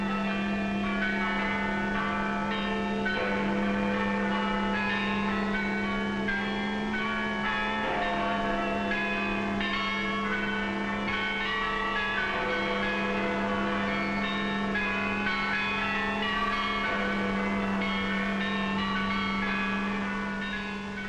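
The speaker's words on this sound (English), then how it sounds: "Now the bells rang out a song of thanksgiving, a song of victory." Church bells in wartime Britain ring out in celebration, a sustained, layered peal over a steady low hum with no speech.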